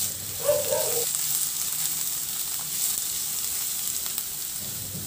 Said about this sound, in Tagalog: Maglagay na rin ako ng sibuyas. Ihalo lang din hanggang sa maluto.